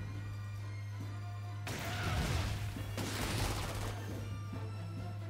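Artillery barrage firing in the World War II strategy game Panzer Corps 2 during the Husky assault on Caltanissetta, heard as two long rumbling volleys of blasts over a steady low background hum.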